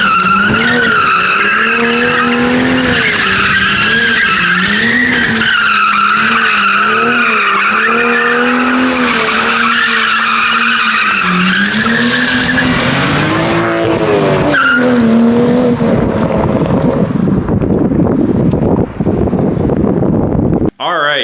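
A Toyota A90 Supra fitted with a Ford 8.8 limited-slip differential swap kit drifts with its engine revving hard and rising and falling in pitch. Loud tire squeal and skidding run throughout, with wind buffeting, before the sound cuts off abruptly.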